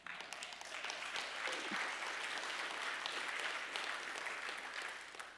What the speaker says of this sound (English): clap because there's victory there.